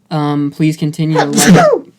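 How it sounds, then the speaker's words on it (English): One loud, close sneeze bursts out right after a person speaks. "Oh, the big sneeze."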